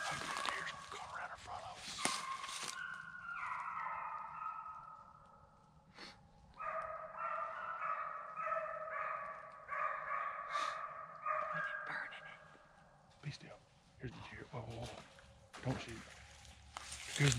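Hunting dogs on a deer drive bark and bay in long overlapping bursts while chasing a deer outdoors, moderately distant, with people talking at intervals around the barking.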